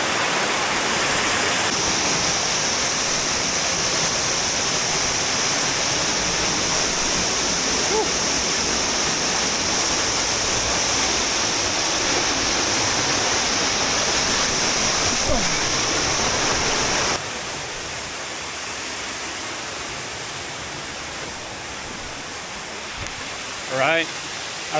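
Waterfalls beside a cave in central Chiapas, Mexico, roar as a steady, loud rush of falling water that fills the whole stretch, easing slightly toward the end.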